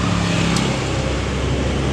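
Road traffic passes close to a roadside workshop, a loud, dense rumble of vehicles with a brief hiss near the start, steady throughout and free of speech.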